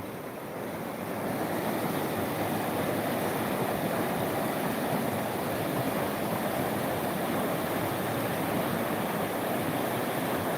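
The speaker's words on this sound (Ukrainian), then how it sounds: "та я сам любуюся цим водопадом ну, він від льоду утворився такий, перепади льоду" A waterfall formed by ice in the Carpathian mountains makes a steady, dense roar of rushing water, constant and unbroken for the whole stretch, fairly close, with no voices.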